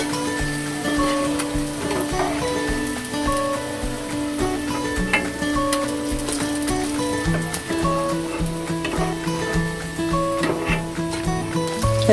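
Bitter gourd (pavakka) slices frying crisp in hot oil, a dense continuous crackling sizzle with scattered pops, close and steady throughout with no speech.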